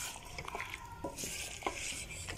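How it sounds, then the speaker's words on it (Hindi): Finely chopped cauliflower is mixed into chicken in a pan, giving soft scraping, stirring and shuffling with light utensil clinks over a faint, quiet sizzle. "गोभी को अच्छे से मिक्स करेंगे।"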